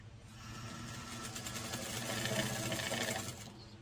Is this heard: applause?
no